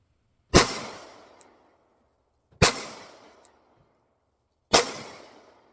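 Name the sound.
Hellcat Pro Comp pistol firing 115 grain ammunition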